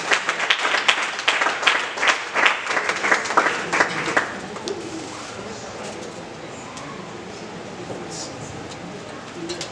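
A church congregation at a 2022 New Year greetings gathering claps loudly in sharp, crowded bursts for about four seconds, then the applause thins and fades into quieter murmuring room noise.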